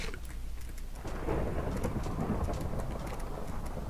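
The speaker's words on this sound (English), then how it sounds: "I'm still hearing storms." Thunderstorm weather in Minecraft, with a deep rolling thunder rumble swelling after a moment over steady rain noise, no voices.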